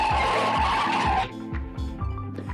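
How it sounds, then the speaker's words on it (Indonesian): Car tires skid loudly as cars cut each other off in a movie chase, with a long squeal followed by engine rumble and repeated shorter skids. "kejar mobil Leo yang langsung pepet dan salib"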